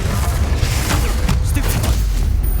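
A Confringo explosive spell blast in a Harry Potter video game hits among dense rumbling game noise, with a few sharp bursts and crackles over a constant low roar.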